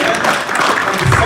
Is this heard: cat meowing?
no